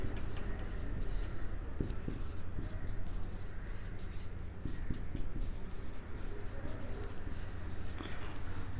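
Marker or chalk scratching across a board during a biology lesson on digestive enzymes, steady strokes and taps continuing for several seconds, close and fairly quiet.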